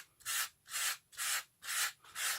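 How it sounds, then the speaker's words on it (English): Very fine sandpaper is drawn lightly across a card mat in one direction, giving five even, rhythmic rasping strokes, close and clear with no voices. "just get a very fine sandpaper. And always working in one direction, just lightly sand it."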